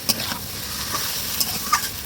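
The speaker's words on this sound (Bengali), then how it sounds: "এটা ভালোভাবে নেড়ে নেড়ে একটু কষিয়ে নেব" Fried vegetables being stirred and sautéed in a pan for shukto, a continuous sizzle broken by a few sharp scrapes and clinks of a spatula against the pan, with no talking.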